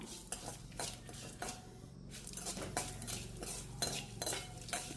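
Pirandai roasts to a golden colour in a pan while a metal spoon keeps turning it, bringing rhythmic scrapes and clinks against the pan over a faint low sizzle, close and fairly quiet.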